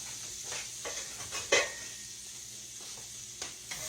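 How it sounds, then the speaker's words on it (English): Spatula stirring a little flour into pork loin gravy in a lopsided skillet, a faint low sizzle with a few scraping strokes and one sharper scrape, quiet and close, no talk. "Stir it around"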